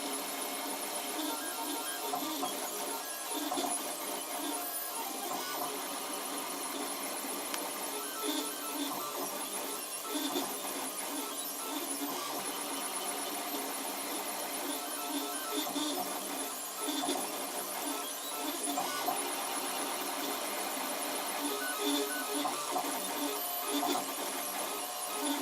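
A 3D printer prints a part for a quick-release belt drive feeder, its stepper motors sounding a steady, shifting whine and chatter that changes pitch as the moves change. It runs continuously at moderate level with no talk.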